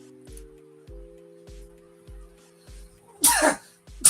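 A single sharp sneeze bursts out near the end of a short stretch of steady low hum and soft rhythmic thumps, loud and close, with a brief second burst right after.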